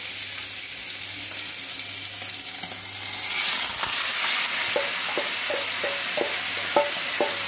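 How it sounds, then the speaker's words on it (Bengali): Marinated chicken pieces go into hot oil with crackling fenugreek and cumin, raising a steady, loud sizzle that keeps hissing while a utensil stirs with repeated scraping knocks near the end. "মেথি আর জিরে যখন ক্র্যাক করতে শুরু করবে তখনই আমি চিকেন পিসেসগুলো অ্যাড করে দেব"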